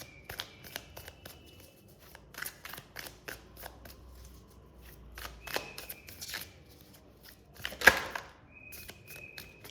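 Tarot cards being shuffled in a series of soft, rapid riffles and flicks, close and fairly quiet, with brief pauses and a sharper slap near the end; no talking.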